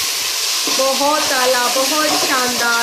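A tadka for moong dal and rice sizzles loudly as tomatoes, green chilies and a splash of water hit the hot pan, with a continuous hiss and crackle under a voice speaking.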